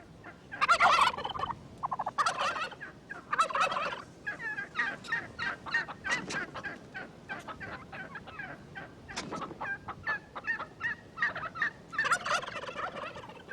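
Wild turkeys gobble in repeated rapid, rattling bursts, several calls in sequence with short pauses, clear and moderately close against a quiet background.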